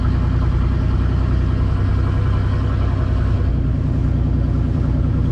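Engine of a home-built car named the Ultimate 800 running on its first test drive, a loud, constant rumbling drone close up with no break and no talk.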